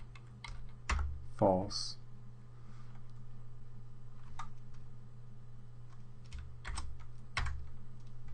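Scattered keystrokes on a computer keyboard while entering a property definition on a home page, a few isolated clicks with pauses between them, fairly near and quiet, with a person speaking over them.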